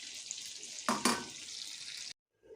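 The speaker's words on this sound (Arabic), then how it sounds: "انا بحط ميه." Water poured into a cooking pot of Egyptian stew hisses and sizzles, with two sharp splashy bursts before the sound cuts out.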